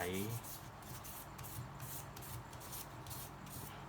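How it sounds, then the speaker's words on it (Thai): Sandpaper rubbing steadily over a handcrafted piece after filing, smoothing out fine file marks before polishing; a continuous close, soft rasping scrape alone, with no talking. "แต่ก็จะต้องใช้เวลาในการ ขัดกระดาษทรายนิดนึง"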